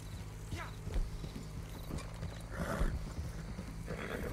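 Horse hooves clip-clopping at a steady riding gait in the Red Dead Online video game, close and moderately loud, with a brief whinny and someone talking softly over the ride.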